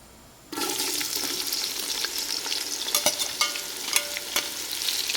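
Sliced onions, about 300 grams, drop into hot oil with fennel seeds in a pan and erupt into a loud, steady sizzle that carries on with crackles and small pops after a quiet start.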